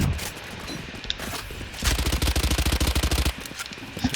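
Gunfire crackles in a tactical shooter video game during a tournament final match, scattered shots followed by a fast, regular burst of automatic fire, fairly loud and close, with faint background noise.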